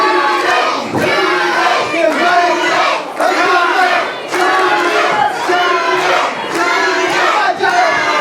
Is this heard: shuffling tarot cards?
no